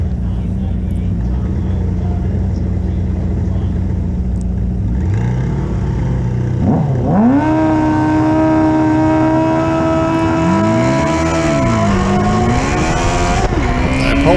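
Drag racing motorcycle at Sonoma Raceway's Wednesday Night Drags: a loud, sustained engine roar whose pitch climbs and wavers as the bike launches off the line and accelerates hard.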